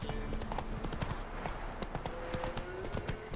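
A horse in The Witcher 3 video game clip-clops with a rapid, steady run of sharp hoof strikes close by, over a dense, busy background of ambient game sound.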